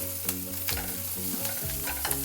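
Chopped vegetables and half a spoon of grated ginger fry in a pan for a veg burger, a steady close sizzle with intermittent scraping stir strokes throughout.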